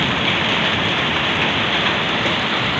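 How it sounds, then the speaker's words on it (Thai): Giant hailstones pelting down during a storm in Huai Mek, Kalasin, Thailand, a dense, continuous hiss and patter that stays loud and steady throughout with no voices. "มีบักเห็บตกโอ้ผมไม่เคยเห็นกันเลย"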